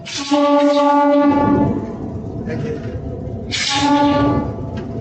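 An old-series Bangladesh Railway locomotive horn sounds two loud, steady, tonal blasts, each over a second long, with a brief lull between them.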